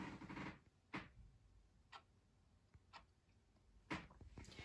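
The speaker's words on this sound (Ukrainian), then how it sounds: "Вони просто дико достали ці часи і їхні тікання." Clock ticking in a room, sharp isolated clicks about once a second, fairly faint against a quiet background with no talk.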